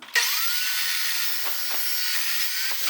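A saw cuts through metal stock clamped in place in a home workshop, giving a loud, steady grinding rasp with a faint whine that runs unbroken for about three seconds.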